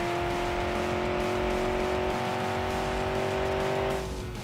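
A car in the BeamNG.Drive driving game accelerates hard out of a tightening-radius corner, its engine droning loud and steady with a sustained whine and some tire noise before easing off near the end.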